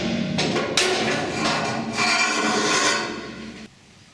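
A hammer knocks bracing out of an Austin Mini body shell during a restoration, a run of sharp metallic blows with ringing in between, close and loud, ending abruptly.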